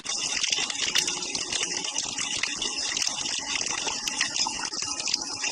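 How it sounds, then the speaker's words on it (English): Water gushes steadily and loudly from a drainage pipe, a continuous splashing rush with no talking over it. "So we just got some water from the drainage pipe over here."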